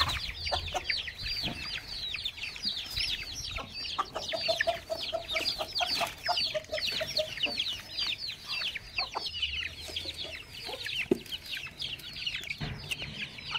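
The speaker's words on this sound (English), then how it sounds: "if we approach the chicken coop with a bucket or something, they generally come running because they know" Chickens at a backyard coop cluck and chatter continuously, a dense flock of overlapping calls close by, with a few louder squawks rising over the busy, steady murmur.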